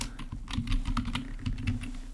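A password being typed on a computer keyboard, a quick run of close, crisp key clicks in an uneven rhythm with no talk over it.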